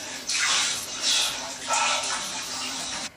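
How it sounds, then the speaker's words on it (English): Water gushes and splashes in a bath while a pet is washed, three loud running surges close by, with no talk over them. "He's actually getting a bath."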